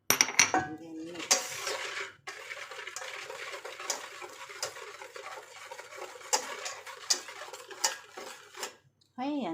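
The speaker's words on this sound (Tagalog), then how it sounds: "And then mix." Spoon or whisk scraping and clinking against a bowl while banana cake batter with vanilla and salt is mixed, a busy run of close, bright rattling strokes with short pauses.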